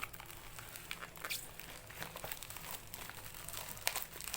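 Plastic packaging of a small clip-on electric fan is torn and crinkled open, an uneven run of close, soft rustles and sharp crackles with no talking.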